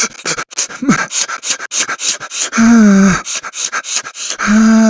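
A person imitates the sobbing, gasping breaths of crying, a rapid series of sharp, close inhales and shaky exhales with a couple of longer drawn-out wails.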